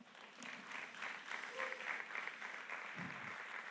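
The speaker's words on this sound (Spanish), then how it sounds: "ellos merecen un aplauso fuerte por eso." Church congregation at Bridge City Church applauding the worship group, a soft, distant and sustained patter of clapping with some faint crowd noise mixed in.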